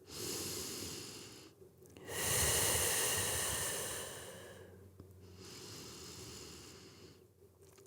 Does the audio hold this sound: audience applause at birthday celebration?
no